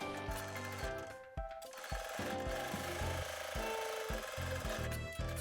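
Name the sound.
sewing machine sewing fabric pocket seam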